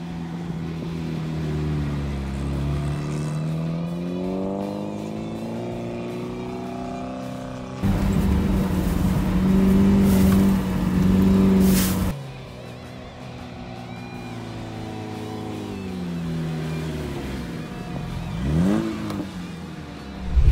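An off-road vehicle on tyres adjusted with an onboard inflation-deflation system drives into desert sand, its engine droning and shifting pitch, then roaring loudly in a burst of revving before easing back down.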